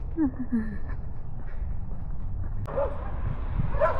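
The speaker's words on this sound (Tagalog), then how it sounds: "Hanggang ngayon tumatahol pa rin siya." A small dog gives a few high, sharp yips and barks, spaced apart, amid low background noise and some faint voices.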